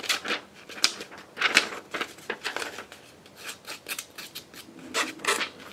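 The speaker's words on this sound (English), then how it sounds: "They're embroidery scissors, but I use them for fussy cutting." Small, sharp embroidery scissors fussy-cutting paper: quick, crisp snips in uneven bursts of close, dry clicks and rasps, with no talking.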